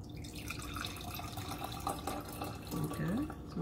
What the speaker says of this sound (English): Okay, so I'm pouring it into the glass.